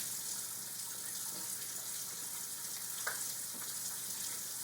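Water runs steadily from a sink tap as hands are washed, a soft, constant splashing hiss at moderate distance with faint intermittent knocks and no talking.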